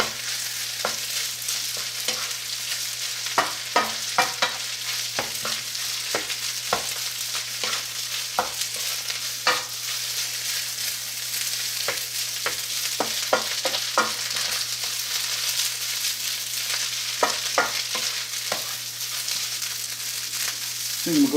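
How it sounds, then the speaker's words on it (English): Fried rice is stirred in a hot pan under a constant sizzle, with frequent spatula scrapes and taps in an uneven rhythm, close by and with no talking. "I'm going to stir that up real good."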